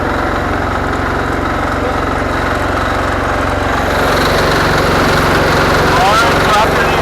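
Diesel garden tractor engine at a tractor pull, a continuous low rumbling drone that swells slightly louder partway through, with crowd and announcer noise faintly mixed in.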